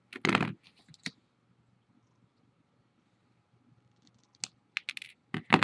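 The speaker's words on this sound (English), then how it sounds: "And then I'm going to cut off that extra." Cutters clip off excess wire while making wire-wrapped pearl earrings, giving a handful of sharp, close clicks and small clatters separated by a long quiet stretch.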